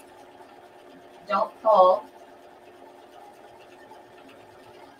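A sewing machine stitches a curved edge of vinyl in two short bursts, close and moderately loud, in a quiet room. A voice speaks briefly.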